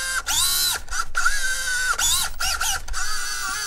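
Small electric motor of an SCX24 Jeep JLU RC crawler whining close up, with a steady high-pitched tone broken into several bursts as the throttle is pulsed, loud and alone.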